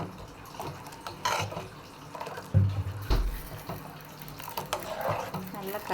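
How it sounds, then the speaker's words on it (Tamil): Water trickles and splashes into a thick ground paste for Kerala-style moru curry in short pours, with a few soft thumps and a quiet voice at times. "சாந்து நல்லா லைட்டாக தண்ணி ஊற்றணும்."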